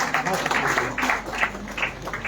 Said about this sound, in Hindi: प्लीज जोरदार तालियां एक बार फिर